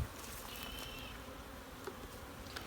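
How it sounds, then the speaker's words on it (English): Honey bees at an open hive during a spring split in Durango, Colorado, hum in a steady, dense buzz, fairly faint and continuous with no voices. "nice calm bees that aren't runny"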